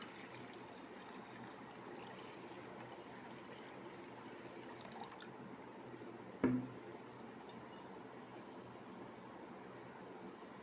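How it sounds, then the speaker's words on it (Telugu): Water is poured onto washed toor dal in a pot as a faint, steady trickling stream, with one sharp knock partway through and no talking. "సరిపడా వాటర్ పోసేస్తున్నా."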